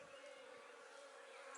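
Russian honeybees buzz at the entrance of their hive, a steady, faint, close drone with a humming tone running throughout; no voices are heard.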